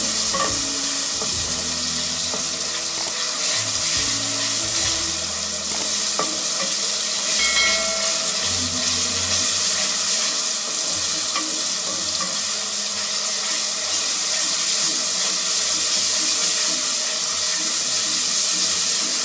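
Ginger garlic paste fries with browned onions in a pan, giving a steady, close sizzle throughout with intermittent stirring scrapes and no talk.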